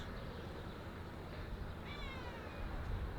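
A cat meows near people eating a roadside meal, giving a short, thin cry against a steady background hiss and rumble, fairly faint and without speech.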